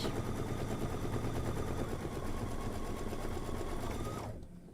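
Embroidery sewing machine running a folding stitch on a drawstring bag, a loud, steady rapid clatter of needle strokes that continues alone for several seconds before abruptly stopping.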